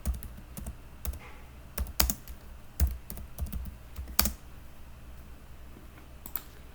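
Someone types an address on a computer keyboard, close by and fairly quiet, with irregular clusters of crisp key clicks and brief pauses between them.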